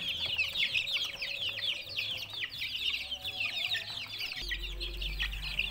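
Chickens cluck and chirp steadily nearby, a busy flock of overlapping peeps and clucks with a low hum underneath.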